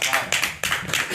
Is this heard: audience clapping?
yes